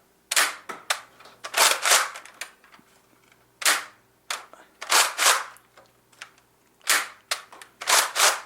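A NERF N-Strike Elite CrossBolt blaster firing foam darts indoors: sharp snapping shots in quick clusters of two or three with short pauses between them, loud and close, no voices.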